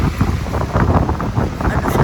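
Cold outdoor wind in Asakusa, Tokyo, rushes and buffets the microphone in loud, uneven gusts throughout.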